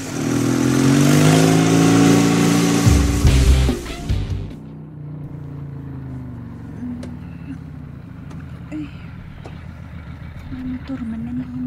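A motorcycle engine runs loud and close for about four seconds, then cuts out, leaving a quieter background with occasional faint sounds.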